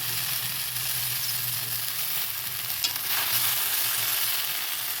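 Okra frying in a pan, a dense steady sizzle with a faint low hum beneath it and the occasional small pop or stir, with no talking.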